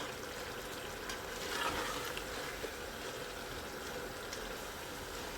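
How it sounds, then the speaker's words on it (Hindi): Minced meat keema with taro and cumin powder frying in a pan, a low continuous sizzle with faint stirring scrapes, close and quiet, no voices. "तो साथ में इसके कीमे की हम भुनाई भी कर देंगे"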